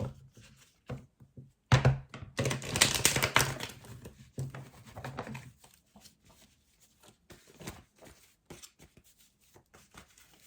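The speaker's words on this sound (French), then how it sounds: "je vais essayer de mélanger un peu vite" Tarot cards are shuffled quickly in a dense burst of riffling and flapping, followed by scattered light taps and clicks as the deck is squared, close and fairly loud.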